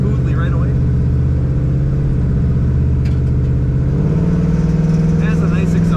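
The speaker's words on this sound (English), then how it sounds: "Started up and idled smoothly right away." A 1967 Pontiac Firebird engine idles loudly and close up, a steady low rumble with a slight change in pitch partway through, while a person talks over it.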